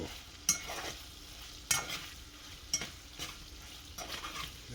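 Crab crisping in a pan with garlic butter, a soft, low sizzle under a few sharp scrapes and clanks of a utensil spaced about a second apart, close and fairly quiet.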